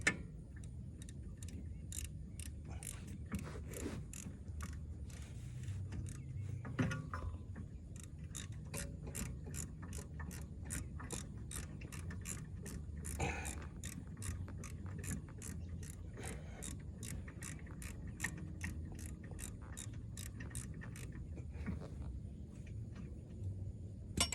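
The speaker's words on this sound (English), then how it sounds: "We're gonna tighten our bolts back up." Steady run of ratchet clicks as bolts are tightened on the rear brakes of a Mercedes-Benz E350, rapid repeated ticking with a few short pauses, close and fairly quiet over a low background hum.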